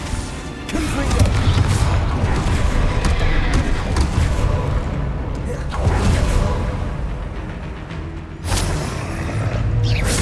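Confringo fire spell explosions in Hogwarts Legacy, a few heavy crashing bursts with rumbling debris over game effects and an ongoing voice.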